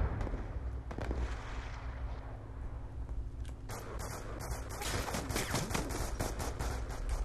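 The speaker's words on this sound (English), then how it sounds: "Why is my teammate shooting at me?" Gunfire in the shooter Black Ops 2 multiplayer rattles as dense, continuous bursts across the whole stretch, moderately loud and steady with no pause, alone without talk.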